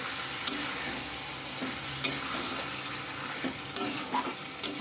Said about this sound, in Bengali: তারপর সব কিছু ভালো করে আমি মশলার সাথে মিশিয়ে নেব।